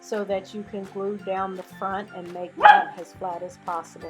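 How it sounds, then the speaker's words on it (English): A small poodle barks repeatedly in quick sharp yaps close by while a person keeps talking over it. "He's a little poodle, and that's what he does, is bark."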